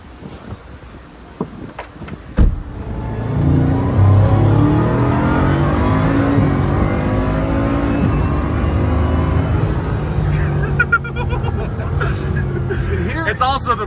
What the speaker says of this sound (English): You can hear the turbos, like yeah. You can hear the whistling.